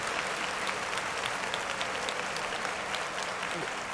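Dense, steady clapping from a group of people, loud and continuous throughout with no break.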